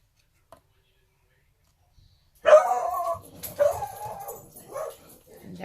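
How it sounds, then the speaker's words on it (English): A dog barks and yips indoors, several sharp close bursts after a brief quiet moment, loud and uneven, with a few whimpering tones between. "And there goes the dog."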